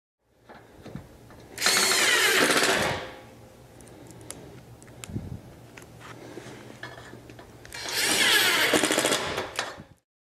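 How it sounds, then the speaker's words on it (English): Two bursts of a power drill driving screws into a wooden studio desk panel and foot rail, each lasting about a second or more, with quieter handling clicks and shuffling between them. "So I'll just add a screw here, and then add a screw over on this panel."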